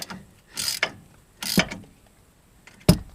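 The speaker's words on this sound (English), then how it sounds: "I'm tightening the last one down, fixing to torque it" A ratchet tightening the last bolt on the shock tower of a 2010 Dodge 2500 pickup during a Bilstein 5100 shock install, with three separate close, loud bursts of rapid clicking and pauses between them.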